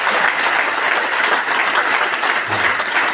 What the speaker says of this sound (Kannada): ಅವರಿಗೆ ಚಪ್ಪಾಳೆ ತಟ್ಟಿ ಒಂದ್ಸಲಿ.